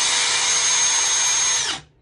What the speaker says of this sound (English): you'll wind it up with a drill and a pair of needle nose pliers hanging onto this end